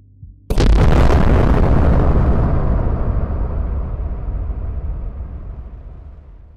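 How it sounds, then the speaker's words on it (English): A sudden loud explosion in the video game Kill the Crows bursts in with a sharp attack, then a long rumbling decay fades over several seconds. "the explosion counted"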